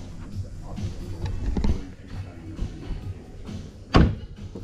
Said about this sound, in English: those doors close nicely